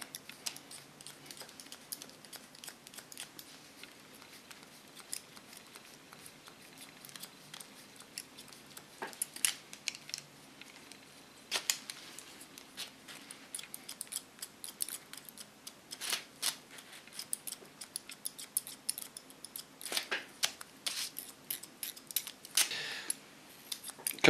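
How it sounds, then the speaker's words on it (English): Quick, crisp snips of hairdressing scissors cutting hair scissor over comb, a rapid irregular run of light metallic clicks close up, fairly quiet with a few louder bursts and no talking. "I always find cutting scissor over comb more wonderful to watch and to see afterwards"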